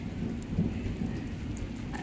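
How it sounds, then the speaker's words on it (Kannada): Rain falling steadily outdoors during a walk, a soft continuous hiss and patter at low level with no voices over it. "ಝೂಮ್ ಆಗಿಬಿಟ್ಟಿದೆ, ಮಳೆ ಸ್ಟಾರ್ಟ್ ಆಗಿಬಿಟ್ಟಿದೆ"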